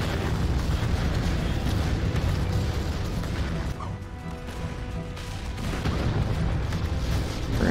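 Artillery barrages in the VR strategy game Final Assault VR, heavy booming blasts and crashes rolling continuously and loudly with dense rumble, easing briefly midway before building again.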